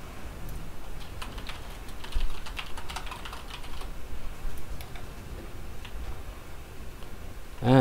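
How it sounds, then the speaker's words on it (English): Steady rapid typing on a computer keyboard during a Guild Wars 2 session, a continuous patter of close key clicks with occasional louder bursts and faint game sounds underneath. "I died again because I was typing."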